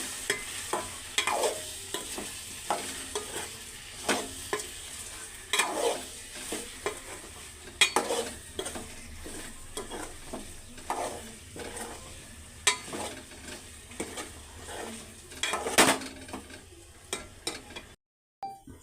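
Taro root pieces sizzle in hot oil with curry leaves while a spoon stirs and scrapes the pan in repeated strokes, a soft steady frying hiss under the irregular clinks, close and fairly quiet.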